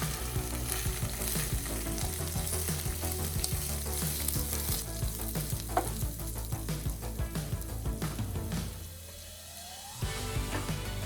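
Soaked sweet rice sizzles and crackles steadily in a hot pan for chicken porridge, with stirring scrapes throughout and a brief lull near the end before the frying resumes, loud and close.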